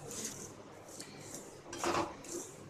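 Salt being stirred and scraped in a hot kadai while roasting for salted peanuts, giving a faint metallic scraping with a few clinks of utensil on the pan, with no talk.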